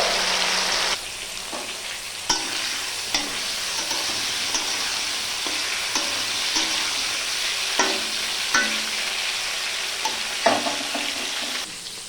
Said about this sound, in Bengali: সমস্ত সবজি আমি ভালো করে ভেজে নিচ্ছি